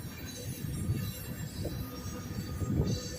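Heavy freight train climbing a long hill near a mine, a steady low rumble of rolling cars and wheels with faint high squeals, heard from close by.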